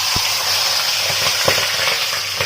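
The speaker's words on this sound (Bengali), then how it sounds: "এখন মাছটা ভাজবো তো মাছটা আগে ভেজে নিই আছে মুড়োটা আগে ভেজে নিই" A fish head frying in hot oil in a home kitchen, a continuous loud sizzle with scattered crackles and small pops spread across the clip.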